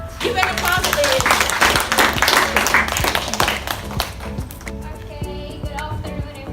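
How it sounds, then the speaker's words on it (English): An audience at a training session on sexual harassment prevention claps in sustained, dense applause that tapers off toward the end, with some talking underneath. "Give an applause, please."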